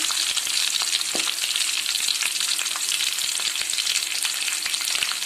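Garlic frying in a pan for a drumstick kara kuzhambu, crackling in a dense, even sizzle with scattered sharp pops, close and continuous with no talking.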